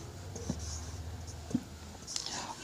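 A trigonometry formula is written out by hand, giving faint, scratchy strokes with a few soft taps, close and quiet, ending in a louder knock.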